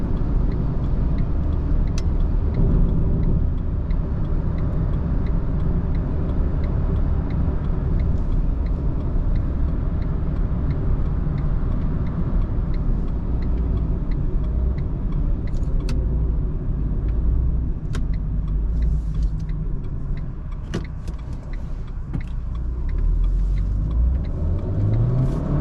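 Renault Clio IV Limited cruising on the Autobahn, its steady engine drone and road roar loud and continuous, with a brief dip and shift in tone as the driver changes gear manually near the end.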